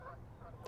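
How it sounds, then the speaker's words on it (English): Geese honk on a lake, a faint, brief, distant call heard against quiet outdoor background noise. "Apologies if you can hear the geese."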